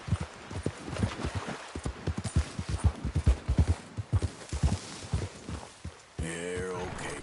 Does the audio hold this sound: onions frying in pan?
no